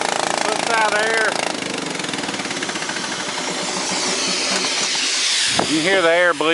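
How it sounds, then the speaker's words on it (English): Air bleeds down with a steady hiss from the air system on a 2001 Ford F450 while the engine rumbles underneath, close and continuous, with someone talking briefly at the start and end. "You can hear the air bleeding back down."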